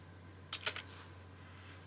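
Quiet keystrokes on a computer keyboard as a short project name is typed, a quick cluster of a few clicks followed by a couple of faint isolated taps over a low electrical hum.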